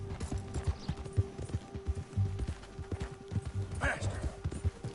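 Horse hooves galloping in Red Dead Redemption 2, a steady, rhythmic clip-clop of hoofbeats running throughout, with voices mixed in.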